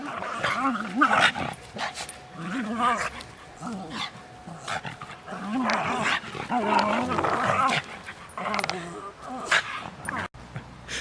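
Dogs growl and bark in a playful scuffle, low rumbling growls with scattered barks and whines over about eleven seconds, a voice talking at times.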